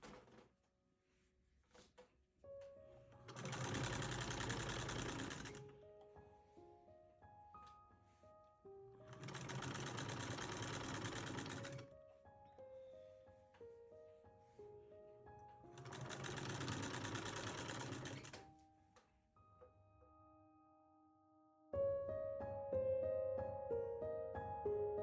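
A 1927 Singer 99 electric sewing machine run with a knee lever whirs in three long bursts of steady stitching, each lasting several seconds, with quiet pauses between and soft background music throughout.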